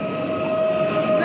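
A Warsaw SKM ELF electric multiple unit pulls away at Legionowo, giving a steady loud rolling hum with a sustained tonal whine throughout, close by and without speech.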